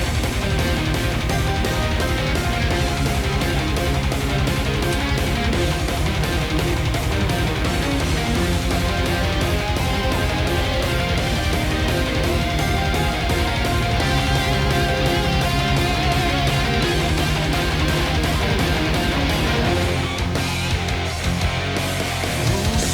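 A loud, dense power metal track plays continuously, with heavy distorted guitars, driving drums and a male lead vocal soaring over the band.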